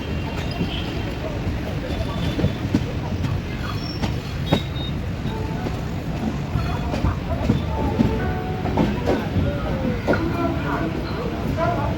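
Konark Express train pulling into Pune junction, a steady near rumble of rolling wheels and carriages with scattered clanks and a faint squeal, with background voices under the noise.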